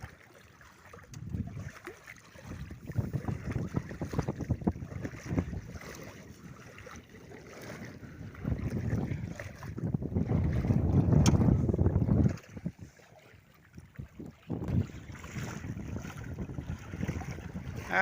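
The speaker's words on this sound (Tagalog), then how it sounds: "Biglang humangin eh." Wind gusts over choppy sea water while out on a small fishing boat, a steady broadband rush that swells louder midway with buffeting on the microphone and water slapping, no talking.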